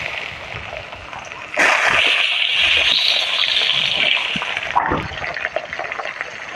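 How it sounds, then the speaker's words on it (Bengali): Potatoes drop into hot oil seasoned with cinnamon, cardamom, dried chillies and cumin for a katla fish curry, setting off a sudden loud hissing sizzle that holds steady for several seconds, then eases to softer crackling. "এবার আলুগুলো দিয়ে দেবো।"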